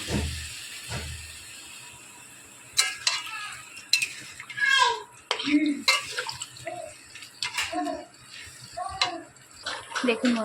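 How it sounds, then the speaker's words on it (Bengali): Water is poured into a pan of mixed-vegetable niramish curry, giving a gushing splash and bubbling followed by stirring and clinks of a utensil against the pan, with someone talking in between. "আমি এবার জল দিয়ে দেবো।"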